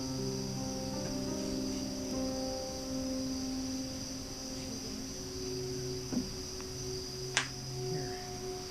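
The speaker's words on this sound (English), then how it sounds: "I just hear more of the cicadas." Cicadas buzz steadily outside an abandoned building in New York, a continuous high droning chorus with layered tones that holds at an even level, with a couple of faint brief knocks.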